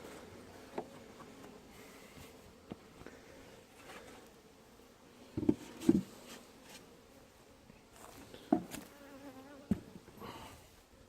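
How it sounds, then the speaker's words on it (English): Soft, steady bee buzzing close by around feed at a hive, with a few brief louder taps and rustles scattered through. "some bees are coming up to check out this feed."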